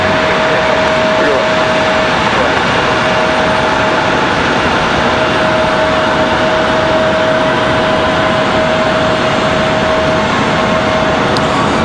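A Delta jet airliner arriving from Atlanta at Raleigh-Durham International Airport at night, its engines a steady, loud broadband roar with a sustained whine that holds for the whole stretch, as a voice talks intermittently over it.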